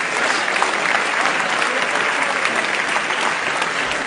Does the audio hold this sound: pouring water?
no